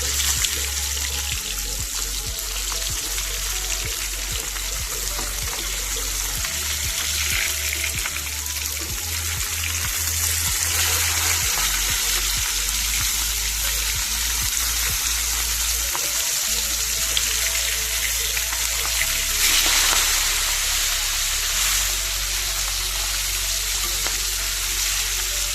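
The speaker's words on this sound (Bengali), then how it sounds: "এই পাশটা লাল লাল করে ভেজে নেব" Pieces of Mirgel fish fry in hot oil, a continuous crackling sizzle with spattering pops that holds steady throughout at close range.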